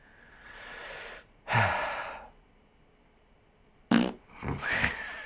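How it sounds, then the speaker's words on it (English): Two short, breathy mouth farts, one made with puffed lips, each followed by a soft sigh-like exhale, close to the mic in an otherwise quiet room. "Little mouth fart."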